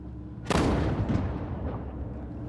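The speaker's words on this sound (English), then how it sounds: "The cannon has been fired." A ship's cannon on a tall ship fires once with a sharp, loud blast that rolls into a long rumbling decay, heard at a moderate distance outdoors.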